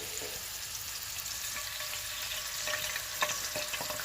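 Frying oil sizzles steadily in a pan before potatoes and onions go in, a dense crackling hiss with a few sharper pops near the end.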